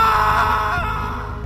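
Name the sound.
loud scream sound effect in horror story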